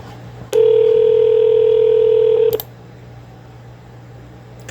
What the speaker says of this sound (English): Calling Jim right now